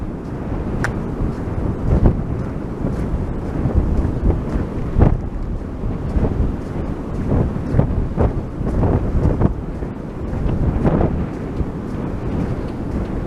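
Strong wind on a beach buffets the microphone in continuous low rumbling gusts, with occasional sharper bursts and distant surf-like wash, no voices.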